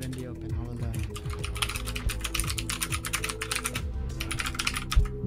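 Rapid, steady clacking of a computer keyboard being typed on close to the microphone, running continuously over a low hum with a brief pause near the end.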